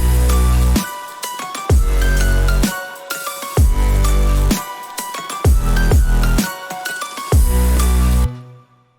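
Full drop of the electronic track: pumping bass-heavy electronic music with piano layered in, punchy repeating bursts separated by short gaps, loud and dense, ending abruptly.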